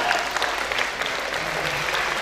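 Students at a faculty orientation event applaud a music club's national choir festival win, a brief, full burst of close, dense clapping from a crowd.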